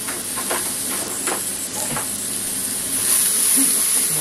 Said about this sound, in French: On va touiller un peu.